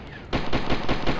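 Enemy gunfire in the video game Far Cry 2, a loud rapid burst of automatic shots after a brief quiet moment, with roughly five or six pulsing shots in quick succession.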